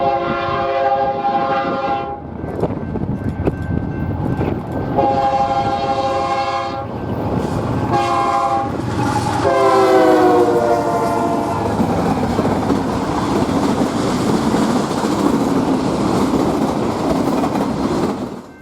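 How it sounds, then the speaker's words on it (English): BNSF 8353, a freight train on the Southern Transcon, sounds its horn in several loud sustained blasts as it rushes past close by at dusk, followed by steady rolling wheel and railcar noise. "With the sunlight fading, BNSF 8353 sprints past us."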